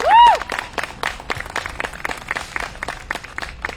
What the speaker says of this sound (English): Big applause for her.